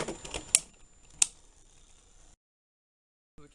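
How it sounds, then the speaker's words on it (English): A camera clicks during a Hasbro spinning-top battle test, two sharp isolated clicks over faint background hiss, then silence. "Camera starts making a clicking noise and making me think it's not"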